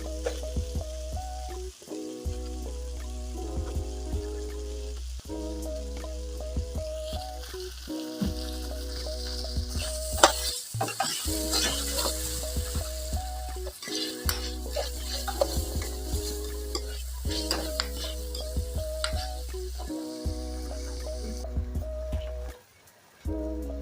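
Carrots frying in a pan for Nigerian samosa and spring roll filling, a steady loud sizzle with repeated scraping stirs of the utensil throughout, no talk.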